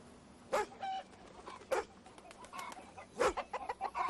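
Chickens cluck in several short, sharp bursts with a dog named Dooley nearby, the calls close and irregular over a quiet outdoor background.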